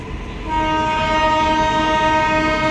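An express train sounds its horn as it arrives at a station platform, a loud sustained tonal blare that swells in just after the start and holds steady without any speech.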